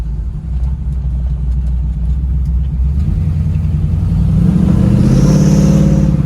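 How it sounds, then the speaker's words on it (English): A 1967 Camaro's engine rumbles loudly up close at first, then revs hard and climbs in pitch as the car accelerates, the roar building and staying strong to the end, with no one speaking. "If I floor this thing, it'll smoke the tires in every gear."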